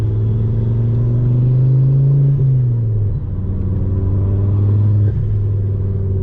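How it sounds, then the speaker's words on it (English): A Ford Focus ST225 with a Revo stage 2 tune, heard while driving: a loud, steady low engine and exhaust drone, a smooth rise then a dip and resettle as the car cruises. "But guys, this car just sounds amazing."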